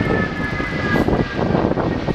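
An RAF Airbus Voyager tanker aircraft making a flypast at the Royal International Air Tattoo, a loud continuous jet engine roar with a faint whining tone throughout.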